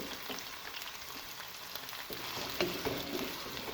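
Onions frying in about a cup of oil in a pan give a steady, close sizzle and crackle, with a few louder spits and pops near the end, and no talking.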